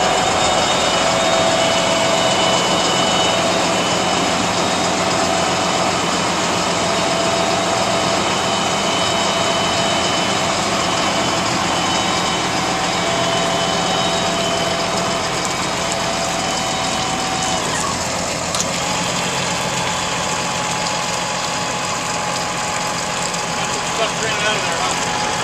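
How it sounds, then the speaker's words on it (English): Ford F-650 with a Scelzi dump body idles steadily while the bed raises, a loud constant engine and hydraulic hum with a slight shift partway through, no talk heard. "it's a very simple mechanism to raise and lower the bed"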